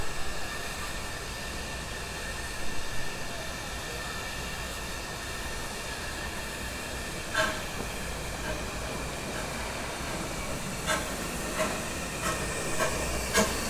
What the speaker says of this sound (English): a couple of beautiful little Peacock locomotives on the beautiful Isle of Man, hauling a rather unusual train.